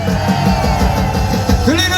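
A large crowd at the Gwanghwamun Liberation Day rally in Seoul roars and shouts continuously, a dense, loud wash of voices with occasional rising yells standing out.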